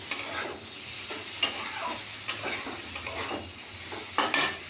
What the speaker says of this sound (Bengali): ভালো করে আলু গাটিটাকে মিক্সড করব, মানে আরেকটু কষিয়ে নেব